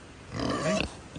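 A pig on an off-grid farm gives a close, guttural grunt that swells and then fades, with a short snort near the end.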